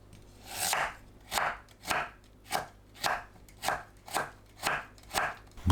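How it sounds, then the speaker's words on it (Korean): A knife julienning radish on a cutting board gives about eight evenly spaced, crisp chops, close and clear with nothing else heard between strokes. "무를 채 썰어주세요"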